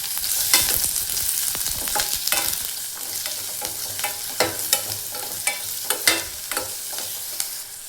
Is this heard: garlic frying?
yes